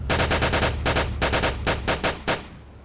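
Rapid bursts of gunfire in the video game ARMA 2 with the DayZ Overpoch mod rattle out up close, several quick volleys in a row, with no talking.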